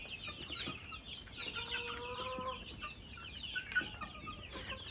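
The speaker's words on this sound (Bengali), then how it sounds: "দেখেন আমার মুরগিগুলোর কিভাবে খাচ্ছে।" Chickens eating feed cluck and chatter in short, overlapping calls, moderately close, over a soft background hush, with a sharper squawk near the end.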